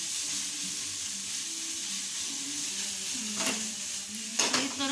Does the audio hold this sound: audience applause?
no